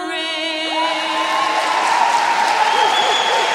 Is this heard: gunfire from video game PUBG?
no